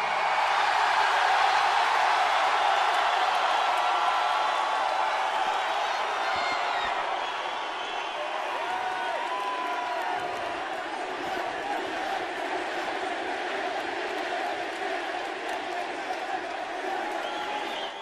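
A packed wrestling arena crowd in Manchester roars and cheers loudly, a dense sustained wall of shouting and whooping that eases slightly but keeps going throughout.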